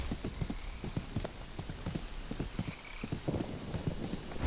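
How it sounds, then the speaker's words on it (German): Rain falls in the RIFT Storm Legion video game, a soft, steady patter of scattered drops with faint, intermittent taps, fairly quiet and with no voice over it. "Und jetzt fängt es an zu regnen."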